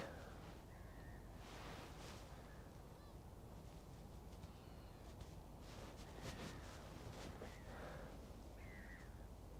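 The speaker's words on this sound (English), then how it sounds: "The birds are awake." Early-morning birds call by the sea on the Bristol Channel shore, with several distant caws and honk-like calls spread out over a steady wind and surf background.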